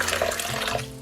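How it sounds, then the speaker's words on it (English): Two cups of water pouring into quinoa in an Instant Pot inner pot, a short steady splashing gush that lasts about a second, close and clear with no talk. "So adding in 2 cups of water."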